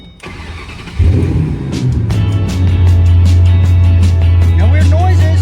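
A Ford Mustang GT500 fresh from transmission work cranks and catches about a second in, then settles into a loud, steady, rumbling idle close to the microphone.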